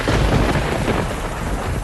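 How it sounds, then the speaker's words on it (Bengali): A thunder sound effect within a spoken horror story: a loud, continuous rumbling roar, broad and sustained, with a wash of rain-like noise and no voices. "হঠাৎ চারিদিক আলো করে বিদ্যুৎ চমকালো।"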